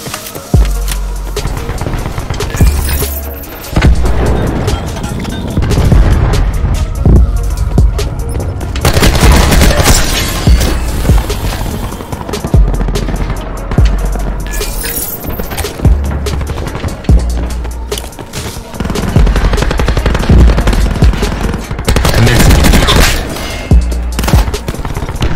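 Sustained video-game gunfire from the VAPR Mk2 weapon, loud, dense bursts of rapid shots with booming impacts running nearly throughout, with brief lulls between volleys.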